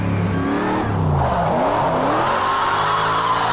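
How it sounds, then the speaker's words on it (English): Engine of a 900hp RTR Formula Drift Mustang in Project Cars 2, a loud, constant high-revving roar in third gear with rising and falling pitch and tire squeal, no talk. "that third gear sounds so crazy"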